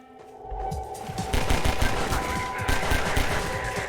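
Submachine gun fire in Half-Life 2, rapid bursts of close, loud automatic shots rattling on for several seconds after a short rising lead-in, with no talking.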